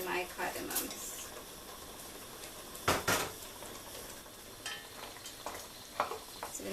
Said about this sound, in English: I'm going to put in my cinnamon sticks and my star anise and my cardamoms.